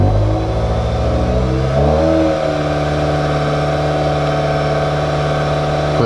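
A car engine is revved up and held at a steady 2,500 RPM during a battery load and charging test; the pitch climbs in the first two seconds, then stays as a loud, even hum with no talking.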